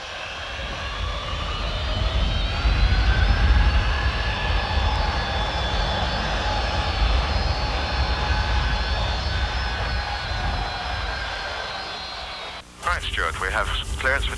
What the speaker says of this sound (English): It's only once in your life you take the Concorde off for the first time.